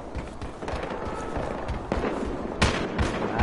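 Shotgun blasts in the video game Battlefield Hardline, several loud sharp shots in quick irregular succession over busy background game noise, with no talk.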